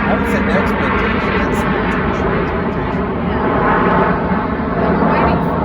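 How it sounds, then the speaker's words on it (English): A plane flies overhead outdoors, its engine a loud, steady roaring drone that fills the whole stretch, with someone speaking over it. "Gonna yell over the plane."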